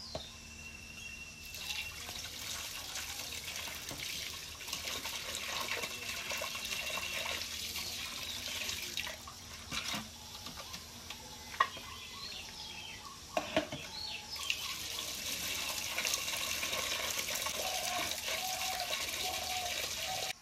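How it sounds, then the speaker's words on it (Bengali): Pieces of rohu fish being washed in a sink, with running tap water and soft splashing at a low level throughout and faint bird calls in the background. "মাছগুলো ভালো করে পিস করে নিয়েছি, এবার ধুয়ে নেব।"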